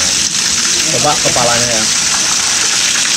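Hot spring water at Air Panas Banjar in North Bali pours steadily onto a bather, a continuous broadband gush filling the whole clip, with a person speaking briefly over the rushing water.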